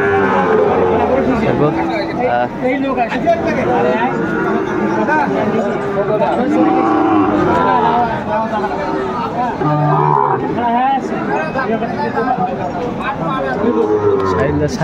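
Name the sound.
Sahiwal cattle calf mooing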